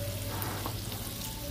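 Butter sizzling in a preheated pan for a creamy bacon and mushroom pasta carbonara, a dense, steady crackling fry that fills the short stretch without pause.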